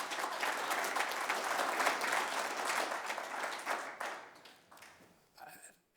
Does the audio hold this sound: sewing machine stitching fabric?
no